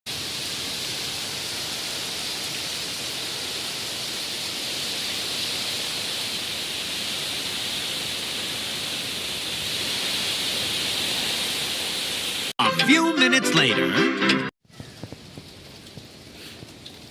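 Wind and rain sweeping over a small hill, a dense steady roar of gusts and rainfall buffeting the microphone, close and loud for most of the stretch, then a brief burst of sharper rustling before the noise drops away.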